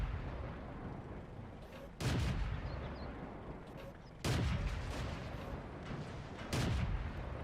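Tank cannon fire in the World of Tanks video game: three loud, booming shots spaced a couple of seconds apart, each sharp onset fading into a long rumbling decay over a low battle din.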